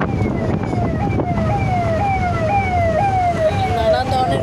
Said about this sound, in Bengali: অ্যাম্বুলেন্স যাচ্ছে পাশ থেকে